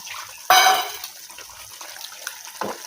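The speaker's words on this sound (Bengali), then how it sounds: "আমি গ্রেভির মধ্যে একটু পানি দিয়ে দেবো" Water poured into potato gravy in a pan, a sudden loud splash that settles into quieter bubbling and trickling, with a brief soft clatter near the end.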